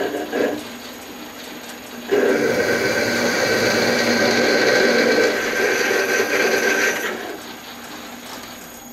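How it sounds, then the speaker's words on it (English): A drill bit opening up a hole to 9 millimeters in a steel saw arbor: a steady mechanical whir and grind runs for about five seconds at moderate loudness, with quieter machine noise before and after and no talking. "Now we can open up the hole to 9 millimeters, and then we will bore it to 10 millimeters"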